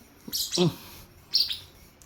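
Two bursts of shrill, piercing sun conure chirps close by, separated by a short pause.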